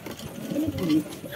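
King pigeon giving a soft, low coo heard close up, one brief rolling call.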